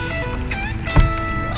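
A boat's outboard motor runs during docking, a steady droning hum with a short thud partway through.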